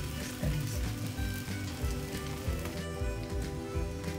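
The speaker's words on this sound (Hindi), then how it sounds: "अब इसके ऊपर लगाएंगे घी और इसके ऊपर परांठा डालेंगे।" Burfi-stuffed paratha sizzling in ghee on a hot tawa, a steady close crackle with low rumbling pan noise throughout and no voices.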